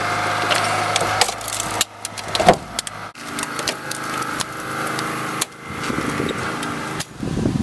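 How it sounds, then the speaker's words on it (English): A heavy-class G6W hydraulic rescue cutter with 110-ton capacity bites through a car post during vehicle extrication, with splintering cracks and metallic snaps over a steady hydraulic pump and engine drone. "This G6W is a heavy class ABD cutter with 110 tons cutting capacity."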